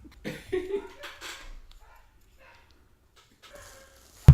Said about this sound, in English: He's a pit bull.